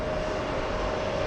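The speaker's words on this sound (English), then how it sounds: "Awesome. That's the Embraer." An Embraer 195 jet airliner at an airport, a continuous loud engine roar with a steady tonal whine, brief and unbroken.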